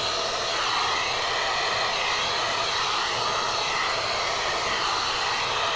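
A hot-air tool blows steadily on organza fabric to shrivel it, a continuous loud whooshing roar that holds level from start to finish with no talk over it.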